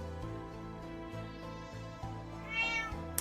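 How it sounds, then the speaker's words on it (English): A cat meows once, fairly faint, under a steady background of game music. "Shut up, cat."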